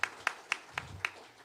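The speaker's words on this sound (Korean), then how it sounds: "우리 박수로 환영하겠습니다" A congregation at a Sunday morning church service claps to welcome a newly registered member, giving about five sharp, evenly spaced claps in a quick steady rhythm, fairly close and clear.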